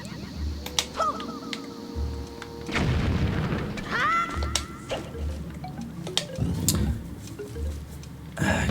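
A bomb going off in Zelda: Wind Waker HD, a loud booming burst with a broad noisy rumble amid game music and chimes, followed by further thuds and effects.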